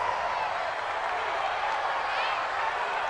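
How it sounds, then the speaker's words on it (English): A virtual stadium crowd in the American football video game Madden NFL 20 roars in a steady, dense wall of cheering and noise that holds loud throughout the short stretch. "Listen to this crowd now."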